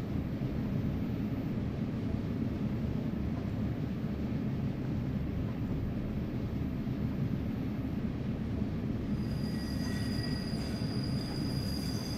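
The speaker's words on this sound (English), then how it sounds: "I'm going to shut off power and let the train coast" Train Simulator 2015 train coasting with power shut off on the Sittingbourne to Sheerness route: a steady low rumble of wheels on rail runs throughout, with faint squeal tones entering near the end.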